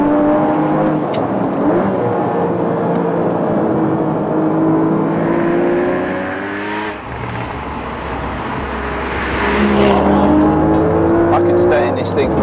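A Porsche Cayman GTS engine revs hard on the move, climbing and dropping through downshifts from third to second, loud and close, with someone talking over the engine note.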